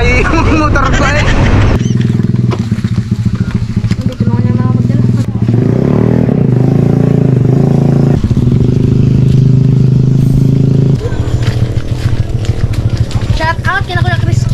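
A Yamaha Aerox 155 v2 scooter fitted with 11-gram flyballs labours up a mountain road, its engine loud and close, droning and shifting in pitch over rough clatter, with people talking over it.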